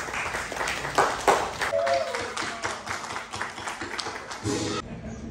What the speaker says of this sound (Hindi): मदर्स के लिए बहुत सारी अगेन तालियां